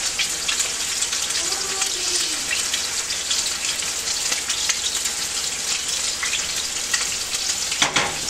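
Torrijas, Spanish French toast made from bread soaked in sweetened milk, frying in a pan make a continuous loud hiss and sizzle with scattered crackles, close up and unbroken, with a brief clatter near the end.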